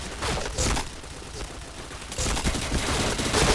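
Bursts of rapid gunfire in a shooting video game, loud and repeated, with a short lull midway before the shooting resumes; faint talk in the background.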